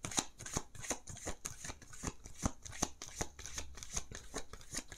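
Oracle cards get shuffled by hand for a tarot-style reading, making close, crisp riffling and slapping sounds in a quick, even rhythm with no talking.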